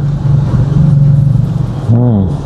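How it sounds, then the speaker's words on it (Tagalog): An Isuzu C240 diesel engine in an owner-type jeep idles with a loud, steady rumble, then revs up sharply near the end, heard close by. "So yung makina ay si Isuzu C240."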